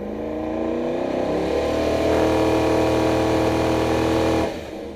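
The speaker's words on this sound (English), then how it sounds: "I want to say half throttle, and it rockets like, it goes straight to 70 miles an hour in third gear without even trying" A truck engine pulls hard up a hill at half throttle, a loud close drone whose pitch rises steadily for about four seconds before dropping off sharply as the throttle is released.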